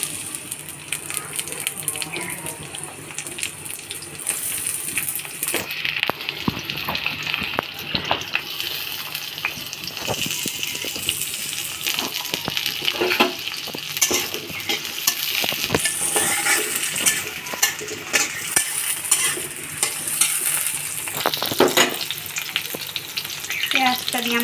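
Chopped onions with whole garam masala, bay leaves, cloves, cardamom and cinnamon sizzle steadily in hot oil, with frequent scraping and clinking of a spoon stirring through the pan, close and loud.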